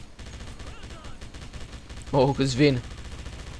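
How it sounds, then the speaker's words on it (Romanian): A machine gun fires in the video game Wolfenstein, rapid repeated bursts under a player's voice. "Ce mișto e mitraliera asta."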